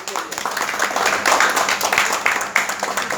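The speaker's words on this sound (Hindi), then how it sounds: "एक बार जोरदार तालियां हो जाए हमारे पेरेंट्स" A crowd at a car achievement celebration claps and applauds for the parents, a dense, moderately loud patter of many hands with voices mixed in.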